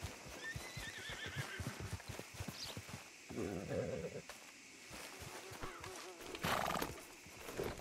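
A horse in the Red Dead Redemption 2 video game clip-clops along with steady hoofbeats, then neighs loudly midway, with a further burst of noise near the end.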